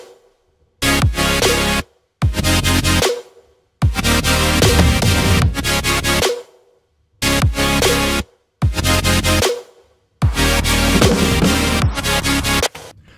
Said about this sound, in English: here's the result with just the chords and drums going.